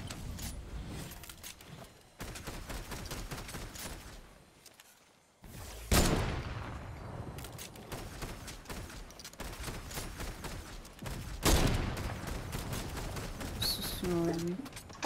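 Bursts of rapid Fortnite gunfire crackle throughout, with sharper single shots and mechanical clatter between them, under a busy game soundscape.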